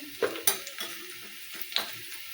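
Two green chillies dropped into hot oil for shavige upittu, giving a few sharp sizzling bursts and spoon scrapes against the pan, fairly close, with quieter crackle between and no talking.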